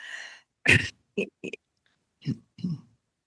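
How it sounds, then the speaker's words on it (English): Several short, harsh coughs in quick bursts, separated by brief silences, close to the listener. "I'm going to cough for a minute"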